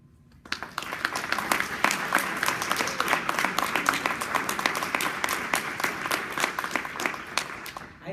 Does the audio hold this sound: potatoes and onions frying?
no